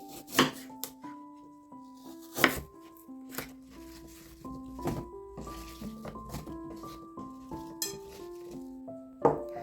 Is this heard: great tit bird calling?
no